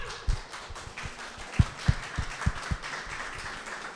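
Brief, scattered applause from a small audience at an international human rights forum, a handful of sharp claps with no voices over them.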